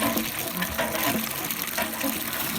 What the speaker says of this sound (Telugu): చూడండి పంపు ఇప్పుడు కూడా నీళ్ళు వస్తున్నాయి